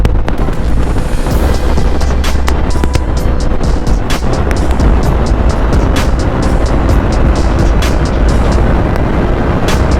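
Yamaha R3 motorcycle ridden at about 82 mph, a steady loud roar of engine and rushing wind buffeting the microphone throughout, with no pauses or talk.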